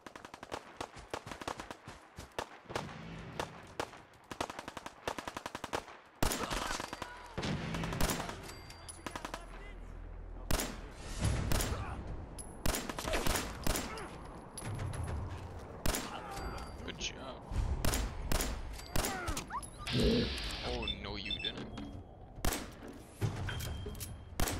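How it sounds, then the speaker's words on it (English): Gunfire in the video game Fallout 4: rapid bursts of automatic fire and scattered single shots crackle through a long firefight, loud and dense at times, with brief lulls and speech now and then over the shooting. "Worried about the gunshots?"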